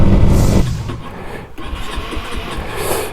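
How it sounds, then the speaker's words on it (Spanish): A motorcycle engine wet from rain cranks and sputters without catching, a loud rough burst at first, then a lower uneven churning that never settles into a steady idle. "La moto no enciende."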